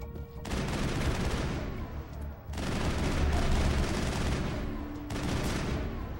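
Heavy gunfire fills a firefight in the video game Mass Effect, sounding as loud, dense volleys of rapid shots. One brief lull breaks the fire before it resumes and keeps going to the end.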